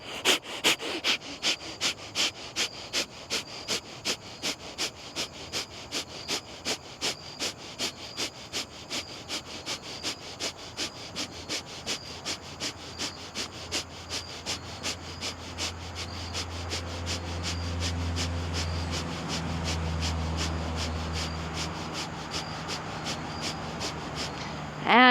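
Kapalabhati yoga breathing during an evening vinyasa session: a long run of rapid, rhythmic, forceful nasal exhales, close and fairly quiet, steady at about two per second, fading into softer breathing and a faint low hum near the end.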